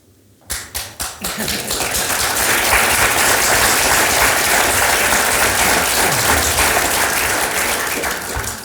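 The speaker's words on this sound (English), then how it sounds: "thank you for that round of applause, indeed" An audience applauds a panel at a reinsurance market briefing, opening with a few distinct claps that swell quickly into loud, sustained, dense clapping that holds steady throughout.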